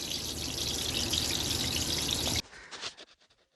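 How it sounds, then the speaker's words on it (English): Water gushing and trickling as it drains out of an RV shower waste outlet, a steady loud rush that cuts off abruptly partway through, followed by a few faint drips and trickles. "So this is the problem we have with the shower not draining."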